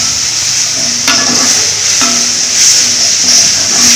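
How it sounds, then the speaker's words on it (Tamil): Onions sautéing in a pan over a medium flame, a loud continuous hissing sizzle with a few spoon strokes and scrapes against the pan, close and steady throughout. "வெங்காயம் கொஞ்சம் நல்லா வதங்கணும்."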